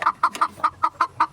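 An angry pet chicken gives a quick run of seven sharp, loud clucks in a steady rhythm, close by and alone.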